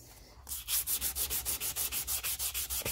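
A 30-year-old hammer being restored is sanded by hand with 240 grit sandpaper in quick, even rubbing strokes, about five per second, close and clear with no talk.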